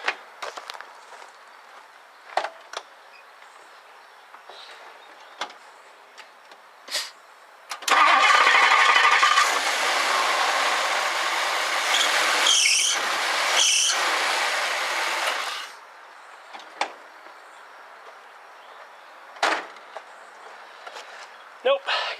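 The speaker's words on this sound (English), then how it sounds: "today we're going to replace the belts in the car so we can hopefully get rid of that squealing" A 1964 Ford Thunderbird convertible's engine cranks and starts, then runs for several seconds with a loud squealing belt before shutting off, with scattered clicks and someone talking at other times.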